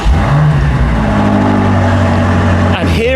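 A BMW M5 drives onto the delivery floor indoors at the BMW Welt, its engine a steady mid-pitched hum close by with a slight rev, running alone without voices.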